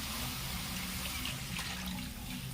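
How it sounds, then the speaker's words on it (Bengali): Water poured into fried spice paste in a pan while making a rohu fish curry, a loud continuous rushing splash and bubbling that lasts the whole time, with no speech. "এবার জল দিয়ে দিব"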